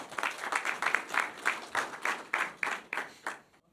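Workshop audience applauding a speaker, a modest group clapping in a quick, fairly even rhythm that gradually thins out and stops, heard from within the room.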